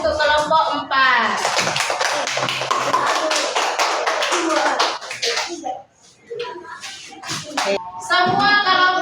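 Classroom clapping for a student project group, a loud burst of many hands applauding together for several seconds between stretches of a teacher speaking.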